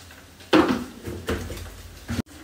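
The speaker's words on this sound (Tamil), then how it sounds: "பெப்பர் பொடி போட்டிட்டு நல்லா கிண்டிட்டு கிளறி விடணும்" Pepper powder is stirred into a dish in a cooking pan, with a few close metallic scrapes and clinks of a spoon against the pan, quiet and without talk.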